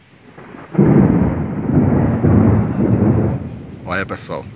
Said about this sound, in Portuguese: Trovão aí, ó.